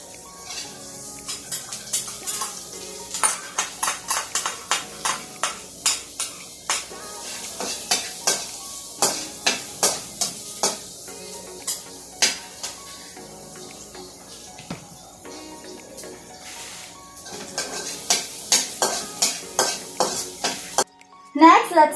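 Minced garlic frying in butter in a pan while a utensil stirs it, making a soft sizzle under rapid, sharp repeated scrapes and clinks against the pan that come in bursts, close and loud, with a voice faintly in the background.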